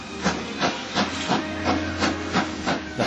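A steam locomotive backs onto a train, giving rhythmic puffs of hissing steam about three per second, loud and close with a low rumble underneath.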